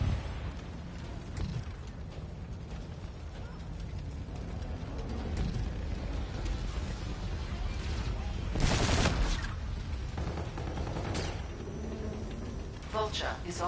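Automatic weapon fire in a PS4 video game rattles in repeated bursts over a steady battle rumble, with the heaviest volley near the middle and voices talking at points.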